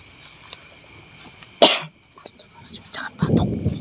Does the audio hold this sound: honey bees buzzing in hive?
no